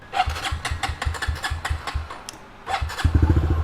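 Modified pit bike motorcycle engine starting easily and settling into a rapid, choppy idle, loud and close, with a heavier burst of revs near the end.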